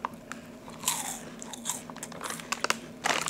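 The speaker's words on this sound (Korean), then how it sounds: "바삭바삭 홈런볼." Someone bites and chews crunchy Home Run Ball snacks up close, with crisp, irregular crackles and crunches that come in quick clusters over quiet room tone.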